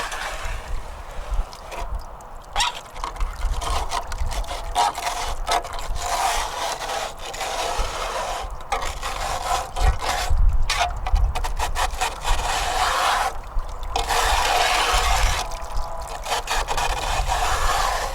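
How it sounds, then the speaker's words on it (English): A metal scraper rasps and rubs across the wooden-framed section of a gold drywasher, making steady, fairly loud scraping strokes for the whole stretch, with brief pauses and no talk. "Remove this dam and scrape this section out."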